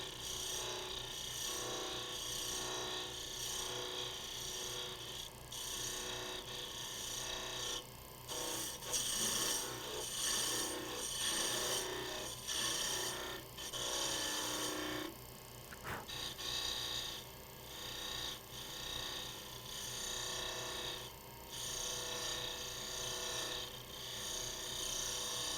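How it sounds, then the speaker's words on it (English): Wood spinning on a lathe, cut by a spindle roughing gouge while shaping a cylinder for a gimbal clock: a steady, dense rasping and whirring with a constant motor hum, continuing alone and unbroken with small surges in intensity. "come back with the spindle roughing gouge or a skew and just make a cylinder that's 7/8 of an inch in diameter"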